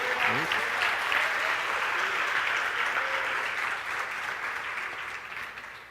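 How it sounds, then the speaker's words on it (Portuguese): A church congregation claps together at a Sunday night service, a broad, sustained wash of applause that thins slightly toward the end, with faint voices mixed in underneath. "Pode ser mais alto essas palmas aí?"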